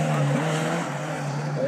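A race car on a Silkeborg sprint track revs and shifts quickly from one gear to the next, its engine tone dropping and climbing again, loud and close with a voice talking over it.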